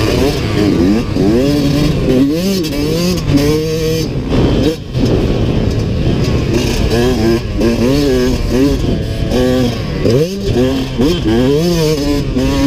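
A Yamaha YZ125X two-stroke dirt bike screams through repeated loud revs on a motocross track, its pitch rising and falling in quick surges as it shifts and accelerates, with a brief dip around the middle.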